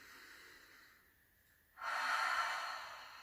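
A person takes one slow, audible breath in through the nose during a quiet guided yoga breathing practice, a soft airy inhalation rising after a near-silent pause.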